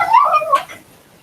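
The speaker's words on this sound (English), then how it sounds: "Sorry, my dogs." High, wavering whimpers and short yips from pet dogs, close and fairly loud for about half a second before fading to quiet.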